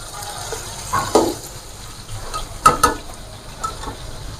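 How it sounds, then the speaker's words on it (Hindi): Mutton pieces frying in a cooking pot for biryani, with a steady close sizzle and a few louder scraping stirs of a spoon against the pot. "गोश्त मैंने डाल दिया देगची के अंदर। इसको भून लेते हैं।"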